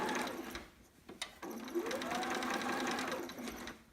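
A sewing machine runs continuously, stitching a ruffle onto a romper, its rapid mechanical whir and clatter close and steady with a brief pause early on, and no talking.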